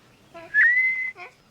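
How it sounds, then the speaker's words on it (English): A rising whistle from the baby Swee'Pea in the 1980 Popeye film answers a question: one clear, sustained tone that swoops upward and holds for about half a second, set between short bursts of talk. "Swee'Pea can predict the future by whistling when he hears the correct answer to a question"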